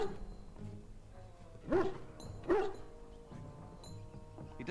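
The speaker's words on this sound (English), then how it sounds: "Wait, did you hear that? Dogs in Ferelden." Dogs bark in the Ferelden setting of the Dragon Age: Origins video game: two distinct barks about a second apart, then a fainter one, sitting moderately loud over a low game ambience.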